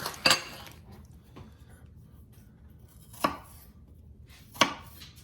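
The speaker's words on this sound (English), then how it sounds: "so I'm just gonna slice it down a hair" Apple pieces are sliced with a knife on a board, giving three or four isolated, crisp knocks against the board with quiet gaps between them.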